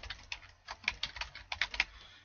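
Fingers tapping out a web address on a computer keyboard, a quick irregular run of close, crisp keystrokes in short bursts with brief pauses, no voices.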